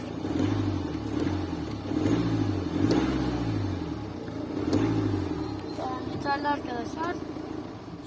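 A small Mini Cooper car engine revs in repeated rising and falling surges over a steady low rumble, close and fairly loud, with a faint voice in the background.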